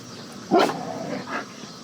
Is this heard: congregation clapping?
no